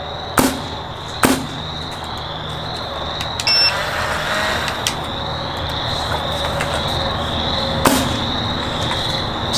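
Brand-new stock Dye DSR paintball marker firing, a few sharp isolated shots spaced seconds apart against a steady background hum, with no talk.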